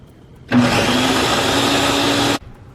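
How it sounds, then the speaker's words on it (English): A blender whirs steadily for about two seconds while blending birria ingredients, starting abruptly and cutting off sharply, loud and close with no talking. "Now that we have everything in there, I'm going to go ahead and blend it."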